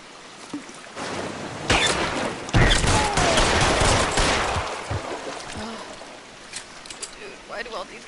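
Shotgun blasts ring out in a shootout in the L.A. Noire video game, several loud, sharp bursts clustered early on and then thinning into sparser shots amid other game noise.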